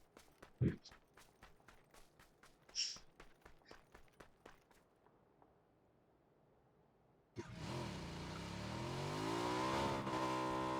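Motorcycle engine in a video game starting up and holding a steady, loud droning rev after several seconds of quiet footsteps.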